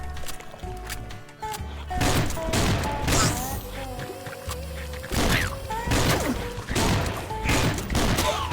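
Rapid volleys of cartoonish gunfire from the mobile game Swamp Attack crack and thud in repeated bursts, loud and close, with brief pauses between salvos and a voice talking faintly underneath.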